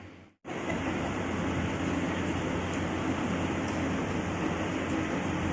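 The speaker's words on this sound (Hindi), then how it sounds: "मैं कूलर की ठंडी हवा खा रही हूँ" An air cooler runs indoors on a hot day, a steady, loud, close whoosh of fan and blowing air that starts suddenly after a brief silent moment and continues evenly with no voices.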